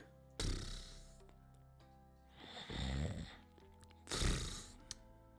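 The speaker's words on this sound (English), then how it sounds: "She snores softly in reply." A cat character in a visual novel dating game snores softly: three slow, breathy snores spaced evenly over about five seconds, quiet and close, with near silence between them.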